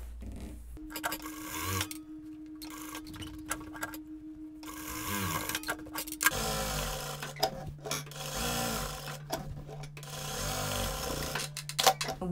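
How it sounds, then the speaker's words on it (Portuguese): An electric sewing machine runs a double topstitch on a surgical hospital uniform, with a steady close whirring hum in several sustained runs broken by short pauses and clicks as the fabric is repositioned. "Vou fazer um pesponto duplo também, para seguir o acabamento da parte de cima."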